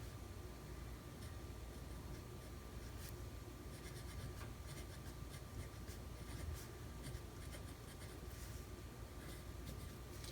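A thick 1.1 nib fountain pen writing in a ring planner makes a steady, faint scratchy stroke sound for about ten seconds, close up and alone.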